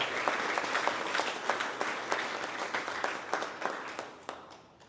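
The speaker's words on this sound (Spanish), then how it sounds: "Le damos un fuerte aplauso a esta comunidad responsable de esta Santa Misa" A congregation at a Catholic Mass breaks into applause for the community in charge of the service, rhythmic, moderately loud clapping that sometimes falls into unison before tapering off toward the end.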